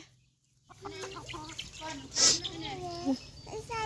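Young chickens cheep and peck at one another in short chirps, heard close by beneath a person's talking.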